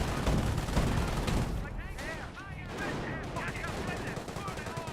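Rapid gunfire and machine-gun bursts fill a Company of Heroes battle between infantry and Bren carriers, loud and dense throughout with overlapping shots; no one speaks.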